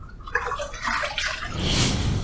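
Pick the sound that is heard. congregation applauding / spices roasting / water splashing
water splashing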